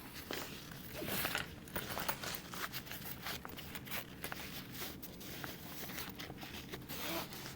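A zipper is handled while a fabric hip bag is being sewn, giving a soft, continuous scratchy rustle with small clicks, close and quiet, with no voices.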